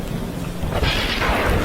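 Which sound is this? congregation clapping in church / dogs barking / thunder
thunder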